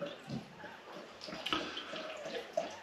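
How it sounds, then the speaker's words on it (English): Bitter beer poured into a glass, a soft continuous trickle and gurgle with a few small splashes, fairly quiet and close. "these are free bitters being poured in front of me"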